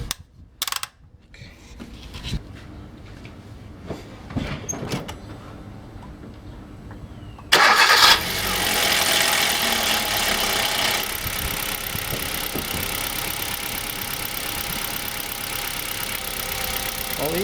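A 2013 Hyundai i20 engine with 100,000 km cranks and catches with a sudden roar, then settles into a steady, loud idle that runs on without anyone speaking.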